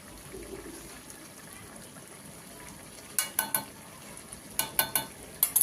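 Ghee and garam masala sizzle in a vegetarian banana flower curry, a soft steady frying hiss, later broken by several sharp stirring scrapes near the pan.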